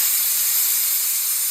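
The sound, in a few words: pressure cooker releasing steam while cooking boti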